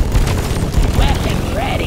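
Gunfire in the video game Deep Rock Galactic, a rapid burst of shots with booming low thuds over a dense game soundscape, lasting under two seconds.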